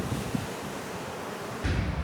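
Ocean waves churn below the deck of the Majestic Princess cruise ship, a steady broadband wash with wind buffeting the microphone, swelling louder near the end.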